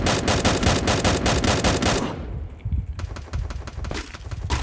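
Rapid bursts of automatic gunfire in a video game, loud and continuous, pausing briefly before another fast volley resumes.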